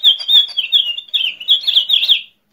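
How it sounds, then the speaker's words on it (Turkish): Birds chirp in a quick, bright run of high tweets during a children's pretend-play game, close and fairly loud with no talking, then stop abruptly just before the end. "Bak, kuşlar ötmüyor. Ben ötün dersem ötecekler."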